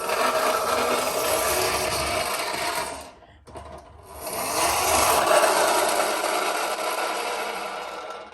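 A continuous gritty whirring rasp from the front friction-drive wheel of an Astro Boy TV toy van spinning, steady and close, briefly dropping out partway through before whirring back up.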